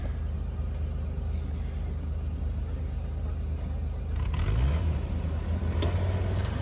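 A Willys Jeep engine rumbles steadily on a wet sand trail, then revs harder near the end with a rising throttle surge, close and loud with no talk.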